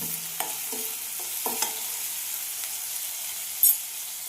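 Carrots sautéing in a pan for oats upma, with a few quick spoon scrapes and taps early on over a soft, steady sizzle that carries on quietly, plus one sharp knock near the end; no voices.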